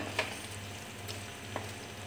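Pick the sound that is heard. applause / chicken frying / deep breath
chicken frying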